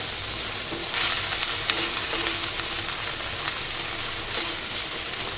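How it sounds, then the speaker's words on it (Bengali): Small shrimp frying in hot oil, a steady dense sizzle that holds evenly loud throughout, broken only by faint crackles and pops. "চিংড়ি মাছটা আমি তেলের মধ্যে ফ্রাই করে নেব।"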